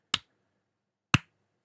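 Two sharp, isolated hand claps about a second apart ring out against complete silence, each brief and close.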